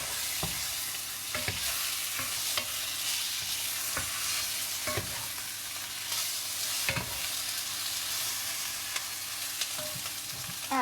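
A turkey sizzles loudly in a hot pan, prepared with apples and cider, under a continuous hiss of frying, broken by occasional scraping knocks as it is stirred and turned up close.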